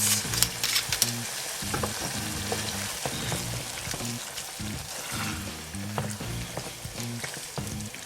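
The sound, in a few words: spaghetti cooking in olive oil with sherry, sizzling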